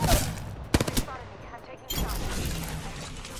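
Gunfire in a battle royale video game: several sharp shots early, then a sustained burst of rapid fire, loud and close, with a voice talking over it.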